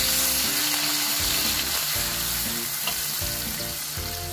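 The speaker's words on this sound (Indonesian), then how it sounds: "Udang rebonnya kita masukkan." Dried tiny shrimp (udang rebon) frying in a pan with tempeh for a bitter melon stir-fry: a loud, steady, close sizzle with low stirring scrapes throughout, no voices.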